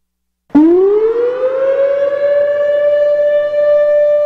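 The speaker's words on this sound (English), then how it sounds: "a brand new weather siren was installed in Waynedale" A weather siren in Waynedale starts abruptly and holds a steady, loud harmonic wail that rises slightly in pitch after onset, sounding alone without voices.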